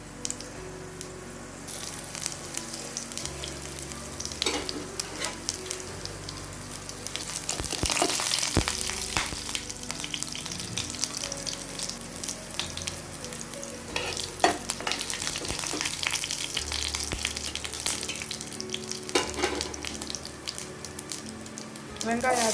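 Cinnamon, cloves, ginger and garlic fry in hot oil for a rava kichadi, giving a steady sizzle with stirring scrapes and occasional clatter, while a voice speaks intermittently over it.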